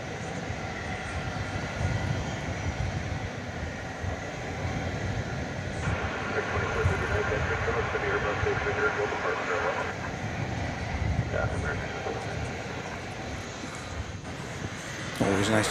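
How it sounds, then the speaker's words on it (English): An American Airlines Boeing 777 bound for Madrid climbing away from the east side of DFW at night, a sustained broad engine rumble that holds steady and fairly loud throughout, with no talk over it. "it's an American flight off to Madrid that just took off from the east side of DFW. Flight 36, it's a 777"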